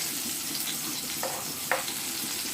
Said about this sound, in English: mash pepper first so that pepper fries out in the oil and give it a nice flavor